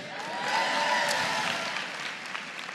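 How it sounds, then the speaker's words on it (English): Church congregation clapping during a sermon, a steady wash of applause that swells and then tapers off, fairly soft and diffuse in a large room. "Come on, clap again"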